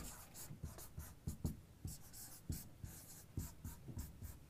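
A marker writes on a board in a quiet room, giving repeated short squeaky strokes and taps in an irregular rhythm, close and fairly faint, with no talking.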